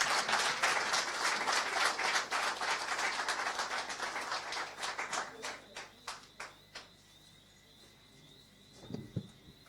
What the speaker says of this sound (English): let's welcome him with a positive round of applause